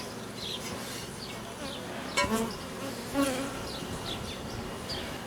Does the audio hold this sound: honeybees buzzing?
yes